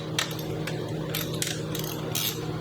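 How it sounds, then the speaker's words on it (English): A ratchet wrench clicks steadily while loosening the lower pinch bolts on a motorcycle fork clamp during a KYB spring conversion on an off-road bike. The clicking comes in short repeated bursts over a constant mechanical hum. "Loosen up the lower pinch bolts"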